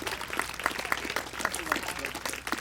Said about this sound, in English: How about a nice round of applause for Dawn Boyce?